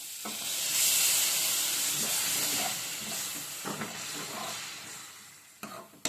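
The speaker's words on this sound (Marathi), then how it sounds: "ह्याच्यामध्ये आता आपण पाणी टाकून घेऊया" A loud hiss and sizzle as water is poured into a hot pan of vegetable curry, gradually subsiding into softer bubbling, with a couple of clanks at the end.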